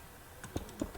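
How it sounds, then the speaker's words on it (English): Computer keyboard typing in a quiet room, a few soft, sparse keystrokes and clicks spaced unevenly across a second, fairly faint and close. "if you can hear typing or clicking like this sound"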